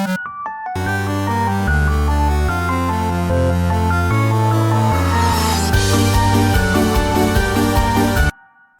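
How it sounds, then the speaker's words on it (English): Synthesized recreation of a piano melody and a square-wave melody, built in FL Studio with FL Keys and a 3x Oscillator as placeholders for an Undertale Yellow remix; a steady stepping bass line under a bright, busy melody plays continuously, then stops abruptly. "we're just gonna recreate both the piano melody and the square melody using FL keys"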